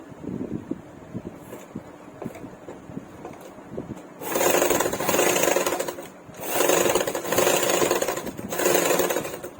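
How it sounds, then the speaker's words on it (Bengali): A sewing machine stitching a blouse, starting with a few light clicks, then running in loud sustained bursts of rapid whirring with short pauses between them. "ঠিক এইভাবে আরেকটা সেলাই দিয়ে নিতে হবে।"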